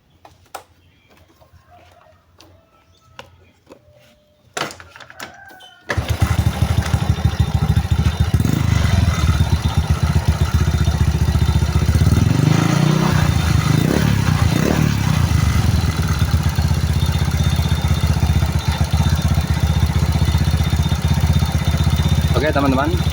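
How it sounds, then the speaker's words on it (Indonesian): A motorcycle engine starts after a few seconds of quiet, then settles into a loud, steady idle that runs close and unbroken for the rest of the span. "ini kita coba nyalakan mesinnya"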